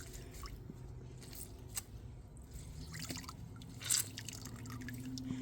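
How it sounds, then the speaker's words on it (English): Water drips and trickles from a car-wash towel being wrung out, a scatter of soft, close patters and squishes over a low steady background, with one louder splash near the end. "Wring it out pretty good."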